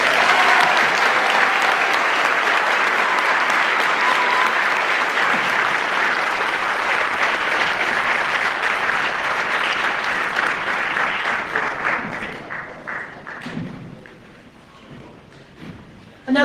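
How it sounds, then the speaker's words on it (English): An audience at a community event in Great Falls claps in a dense, sustained ovation that holds steady, then thins out and fades toward the end. "Another round of applause."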